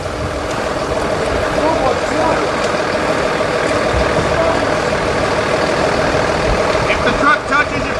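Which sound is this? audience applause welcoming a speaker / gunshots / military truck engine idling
military truck engine idling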